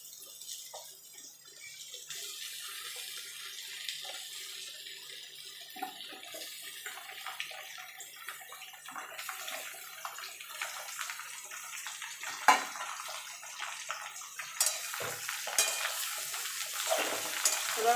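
Ridge gourd pieces tipped into a pan of fried potatoes give a steady, close hiss of sizzling oil that runs throughout, with faint stirring clinks and a few sharper crackles near the end.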